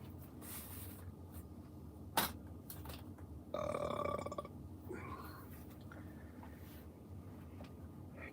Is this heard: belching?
yes